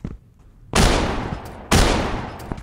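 Two loud, close gunshots in a video game, spaced about a second apart, each a sharp crack trailing into a rumbling decay, with nothing else around them.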